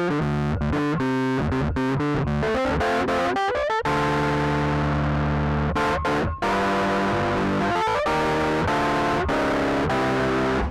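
Rhodes MK8 electric piano run through a distortion filter effect, loud gritty sustained chords and stabs with a guitar-like crunch, played alone without talk.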